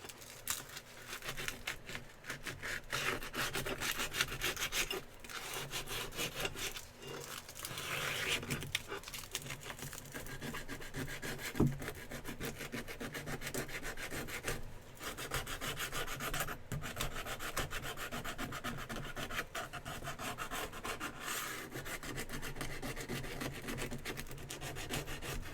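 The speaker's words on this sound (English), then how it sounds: "Just sanding, texturing, I guess we're calling it instead of sanding." Steady rasping sanding on a knife handle, rhythmic rubbing strokes repeating close up for a long stretch, with no talking.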